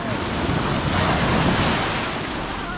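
Ocean waves surge and break around small boats at sea, a loud, continuous wash with heavy wind buffeting the microphone and swelling through the middle.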